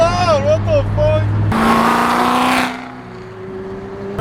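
A loud car engine on a Toronto street revs with a rising and falling pitch, then roars in a harsh burst before settling to a steady drone. People talk and shout over it.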